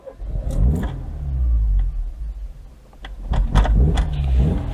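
A 1984 Nissan Cherry Europe cranking over, heard as loud starter grinding in two bursts with a pause between and sputtering engine noise, close by, with no speech.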